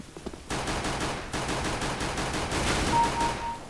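Pistol gunshots in CS:GO, a rapid string of sharp cracks fired in quick succession after a brief quieter opening, close and loud, with no voices over them.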